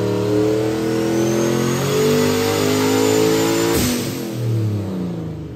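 Single-turbo 1,000 horsepower car engine with a big cam, revving loud and close, its pitch climbing and falling through several swells before a sharp drop and a rumbling idle.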